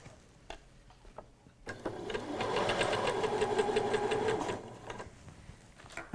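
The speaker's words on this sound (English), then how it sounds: "I'm going to stitch on the spot to start with" Sewing machine stitching on the spot and then running along a bridesmaid dress seam, a steady fast mechanical whir with rapid ticking needle strokes that swells loud for about three seconds after a few faint clicks, then slows and stops.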